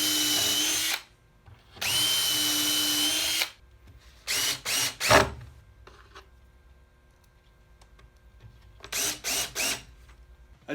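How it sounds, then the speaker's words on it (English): A handheld power drill bores shank and pilot holes in wood for screws on a table saw crosscut sled, running in several loud bursts: two longer runs, then clusters of short trigger pulses separated by quiet pauses. "I'm going to drill a shank hole and a pilot hole"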